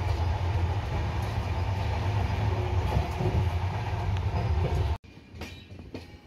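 The 12245 SMVT Duronto Express rolls along, heard from inside the coach as a loud, steady rumble with faint clickety-clack, then abruptly drops to a quieter, thinner interior hum with light rattles.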